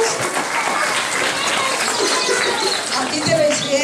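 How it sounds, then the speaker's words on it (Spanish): A crowd of parents at a kindergarten spring festival applauds the teachers, a steady wash of clapping mixed with background chatter and voices, loud and continuous throughout. "Denle un aplauso a sus maestras que les enseñaron a bailar en estos días."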